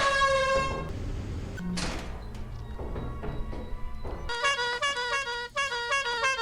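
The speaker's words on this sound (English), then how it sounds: "The air horn and clown horn have a much higher chance to spawn on March than on Assurance" Air horn and clown horn items blaring in the video game Lethal Company: a long bright horn blast, some clattering thumps, then a string of quick rhythmic honks.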